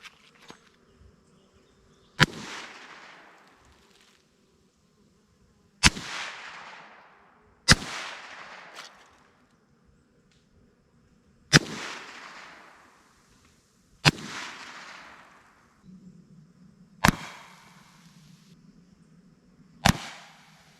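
A .22 rifle fires at shaken soda cans, giving about eight sharp, loud cracks spaced a few seconds apart, each followed by a short fizzing spray, in an otherwise quiet outdoor setting.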